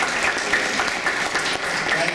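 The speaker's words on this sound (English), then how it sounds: "let's give Jesus a round of applause." Round of applause from a conference audience, loud and dense continuous clapping filling the room without a break.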